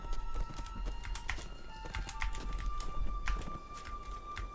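Horse hooves from a mount in Lord of the Rings Online, a rapid irregular clatter of footfalls mixed with sharp keyboard-like taps, moderately loud and close with no talking.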